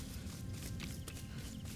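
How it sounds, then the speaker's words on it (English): Quick running footsteps on sand from the video game Horizon Forbidden West, a soft rapid patter of muffled crunchy steps over a steady low ambient rumble, close and moderately quiet. "listen to even the difference like running on this sand."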